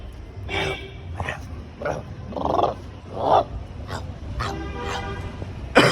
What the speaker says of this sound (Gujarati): ભાઈ કૂતરા ભાવતા શીખી ગયા એ કાલુ બદમાશ